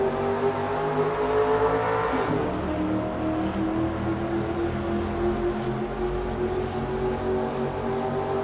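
Onboard an amateur race car at Talladega, the engine revs up through the gears, with rising whines dropping at each shift, then holds a loud, steady drone with wind roar.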